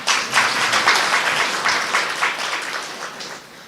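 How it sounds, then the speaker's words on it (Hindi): An audience claps through a spiritual talk, brief steady applause from a room full of people, moderately loud and without voices. "ताली तो बजाइए ना।"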